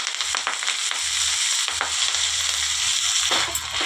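Drumstick leaves fry in a spoonful of oil in a pan, giving a steady close hiss and sizzle broken by scraping, crackling stirs, with no voices.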